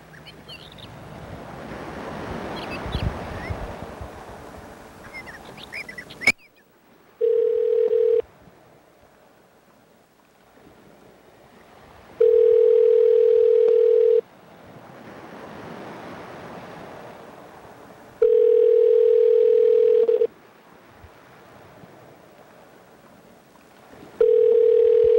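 A telephone ringback tone pulses on the line while a number is dialed, with steady beeps of about two seconds repeating at regular intervals over a faint hiss after an initial stretch of noisy handling.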